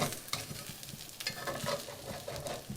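Kuku sabzi, a herb omelette, fries softly in a pan while a flat spatula cuts and turns the pieces, giving a quiet sizzle broken by faint scrapes and taps.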